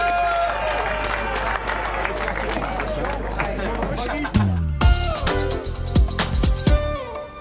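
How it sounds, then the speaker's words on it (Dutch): Loud crowd applause with scattered cheering greets the winner of the 2016 Tour de Lasalle cycling race, filling most of the clip with dense clapping before it thins into sparser claps and hubbub. "En we geven hem een luid applaus, John van der Water."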